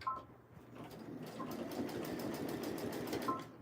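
A sewing machine stitches a large stuffed craft piece, a rapid mechanical whirr running steadily at close range after a brief pause at the start, quiet and alone without speech.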